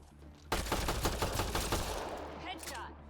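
Rapid gunfire in the video game Mass Effect Andromeda, a loud sustained burst of repeated shots in quick succession that ends abruptly, followed by quieter game sounds.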